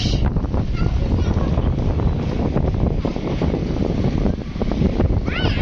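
Strong pre-rain wind sweeps across a rooftop near a railway line, a loud continuous roaring buffet of wind noise striking the microphone for the whole stretch.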